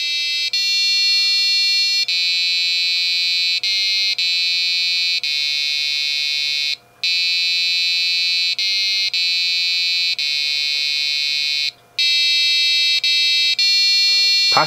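An Arduino-driven piezo buzzer plays the Stille Nacht melody as a run of loud, shrill electronic tones, each note steady and sustained, with two short silent breaks between phrases and no voices.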